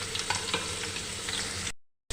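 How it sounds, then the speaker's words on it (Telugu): Chicken liver fries in hot oil in a pan, giving a steady, close crackling sizzle with faint stirring scrapes, ending in a brief cut to silence. "ఇవి నూనెలో ఫ్రై చేసుకుందాం మళ్ళీ."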